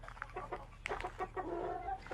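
An Aseel rooster clucks among hens in a short run of close, soft, choppy clucks and calls, with no voices.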